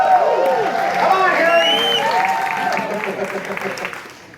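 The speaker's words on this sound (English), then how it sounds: "Big round of applause for my good friend, Eddie!" An audience at the Universal Studios Horror Make-Up Show bursts into loud, sustained applause mixed with whoops and cheers, the clapping steady and close before easing slightly toward the end, with voices calling out over it.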